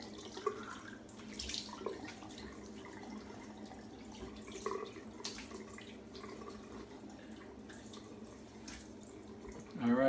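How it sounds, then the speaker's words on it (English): A tap runs into a sink during a shave while alum is rinsed off the face, a faint and steady trickle with small splashes and a louder gush at the very end. "rinse off the alum"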